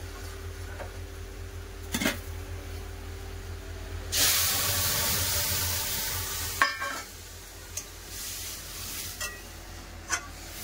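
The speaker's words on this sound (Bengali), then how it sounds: "এবার সিদ্ধ করে রাখা ডাল দিয়ে দেবো।" Boiled masoor lentils hit onions fried deep red in a pan, setting off a sudden loud hiss of sizzling that slowly fades, with scattered stirring clicks before and after.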